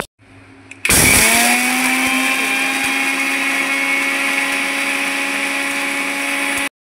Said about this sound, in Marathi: आता मेथी आपण आहे ना मिक्सरला वाटून घेऊया